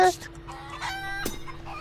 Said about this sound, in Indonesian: Tangkap ayam. Tangkap ayam.